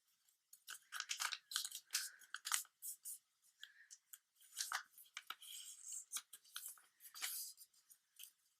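Paper being creased and folded into an origami dolphin, heard as close, crisp crinkles and sharp rustling snaps in irregular bursts against a quiet background.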